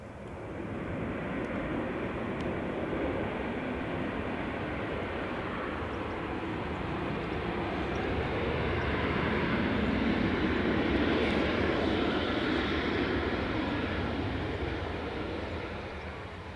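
Ryanair Boeing 737 airliner at Edinburgh Airport, a broad steady jet engine roar that swells slightly in the middle and stays loud and continuous throughout, heard from outdoors.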